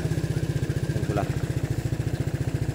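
Aveta Vanguard 250 motorcycle engine running close by, a rapid, even thumping idle with a steady pulse throughout and a brief rise in pitch near the middle.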